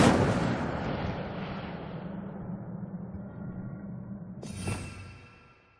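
Incendio fire spell cast in Hogwarts Legacy: a loud whooshing burst of flame that roars and slowly fades, then a sharper crackling flare near the end.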